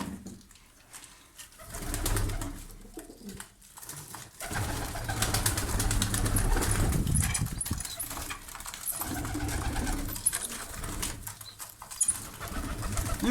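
A crowded flock of pigeons feeding on the ground after their morning grain, steady overlapping cooing from many birds nearby, rising and falling over a long stretch with occasional wing flutters.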